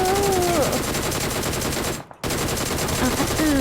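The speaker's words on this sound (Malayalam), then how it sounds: "ഈ സൈഡിലാരോ ഷൂട്ട് ചെയ്യുന്ന ഞാൻ കേട്ടുല്ലോ" Rapid automatic gunfire in the mobile battle royale game PUBG Mobile, a loud continuous burst of game shots that cuts out briefly midway and then resumes.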